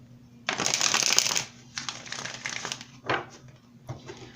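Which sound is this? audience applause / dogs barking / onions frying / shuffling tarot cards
shuffling tarot cards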